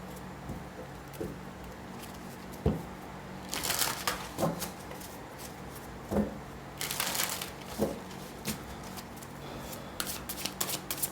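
A deck of tarot cards shuffled by hand, giving crisp riffling bursts and soft taps that come in several short spurts with pauses between, close and fairly loud.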